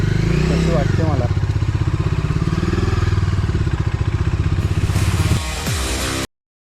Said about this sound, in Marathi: आता ना इथे मी निखिलची मी डॉमिनर चालवून बघतोय, कशी वाटते मला